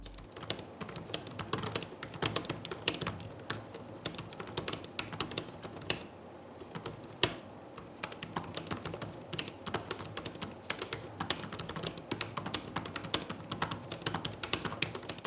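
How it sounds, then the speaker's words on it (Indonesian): Rapid, continuous typing on an Asus VivoBook Pro 14 OLED M3400Q laptop keyboard, soft plastic key clicks tapping in an uneven stream with a brief pause midway, recorded close. "coba kasih contoh suara feedback dari keyboard Asus VivoBook Pro 14 OLED M3400Q"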